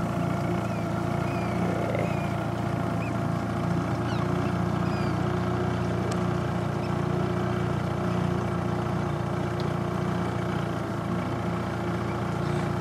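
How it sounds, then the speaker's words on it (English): A boat's engine runs steadily as the captain steers, a constant low drone with a broad hum and no breaks, heard close on board near Millport alongside water and wind noise. "here's the captain steering the boat"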